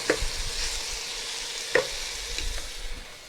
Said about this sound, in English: Just going to let that cook for about a minute.